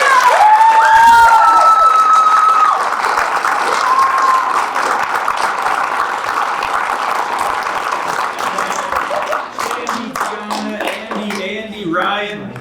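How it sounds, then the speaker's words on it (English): Sustained applause and cheering from a crowd at a school capstone event honouring student ambassadors, dense clapping with a few whoops that thins out toward the end. "Let's give them another round of applause."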